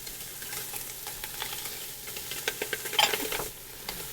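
Portuguese sausage browns in butter in a pan, giving a close, continuous sizzle with stirring and a few sharper scrapes and clinks of a utensil against the pan toward the end.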